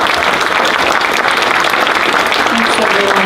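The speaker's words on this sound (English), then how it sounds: "So very much a big round of applause" Convention audience applauding after an interview, a dense, loud, even burst of many hands clapping that fills the whole moment with no pause.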